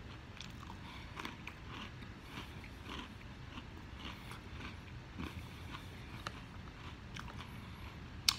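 Close, quiet chewing of Kellogg's Chocolate Peanut Butter Corn Pops cereal, with a steady run of soft crunches and bites and no talking.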